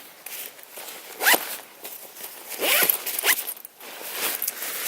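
Zipper on the mesh pouch of a Venture Pal packable backpack, pulled in several quick, close rasping runs with brief pauses between them.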